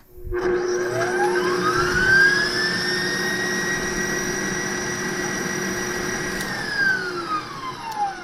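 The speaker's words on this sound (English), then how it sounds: "I put it in my mixer with my whisk paddle on" A stand mixer with a whisk attachment whips lavender tallow body butter with a loud, steady motor whine. The pitch climbs as it spins up, holds, then sags toward the end, with no voices.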